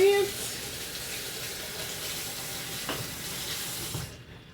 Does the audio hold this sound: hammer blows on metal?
no